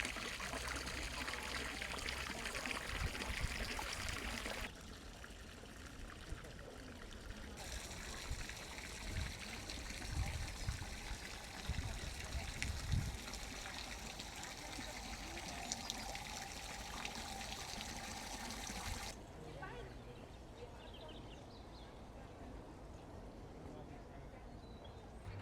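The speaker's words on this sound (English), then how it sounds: "Never have too many water features in a garden." Garden water feature at Kew Gardens, steady trickling and pouring water running continuously at moderate level throughout, its texture shifting slightly in places.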